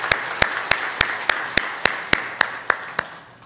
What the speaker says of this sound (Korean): 우리 하나님께 박수와 또 우리 서로를 위해서 축복하는 박수로 하나님께 영광을 돌리기 원합니다.